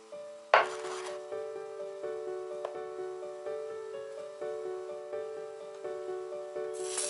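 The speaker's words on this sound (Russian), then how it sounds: "Немного обваливаю в муке и выравниваю стаканом." Soft rhythmic rubbing and pressing, repeated roughly every second, as a glass shapes floured curd cheese patties on a surface, with a faint lingering ringing tone underneath.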